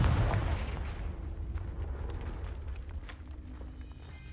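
A Confringo spell blast in a Harry Potter video game lands as one booming explosive burst at the start, then rumbles and crackles away into fainter debris and ambient game noise.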